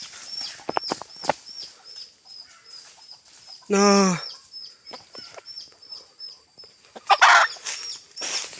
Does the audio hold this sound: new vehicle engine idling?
no